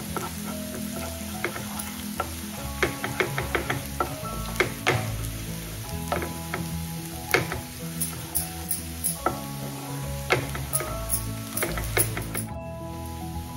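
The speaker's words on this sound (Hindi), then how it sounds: "देखिए लहसुन हल्का ब्राउन हो गया है, 1 मिनट हुआ हमें इसे भूनते हुए" Chopped or grated garlic fries in a pan, turning light brown. A steady close sizzle runs throughout, with frequent crackles and pops and the scrape of stirring.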